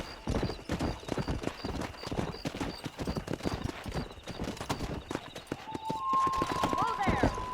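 A horse gallops in Red Dead Redemption, its rapid clip-clop hoofbeats loud and rhythmic, with a brief whinny and a voice over the riding, plus a rising tone near the end.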